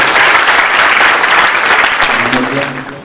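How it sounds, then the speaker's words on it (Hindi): Steady, loud applause from an audience, a dense continuous patter of clapping that fades slightly toward the end as a voice begins to speak over it. "बजाइए ताली"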